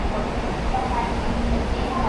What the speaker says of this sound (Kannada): This is bullet train.